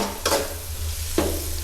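Egg pasta stirred and fried in a pan, a soft constant sizzle broken by two quick scraping stirs close by.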